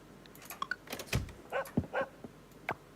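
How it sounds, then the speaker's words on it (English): A dog in the farming game Coral Island gives a string of short barks, yips and whimpers, several quick bursts close by over quiet background, with no speech. "The dog's telling me it hasn't had enough fuss."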